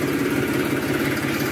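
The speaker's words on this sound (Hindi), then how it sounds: "दोनों ट्रैक्टरों की आवाज़ चेक कर लेते हैं जी एक बार स्टार्ट करके" A New Holland 3630 Special Edition tractor with a rotary pump idles close by in an even, soft diesel thrum with a steady low pulse and no change in pace.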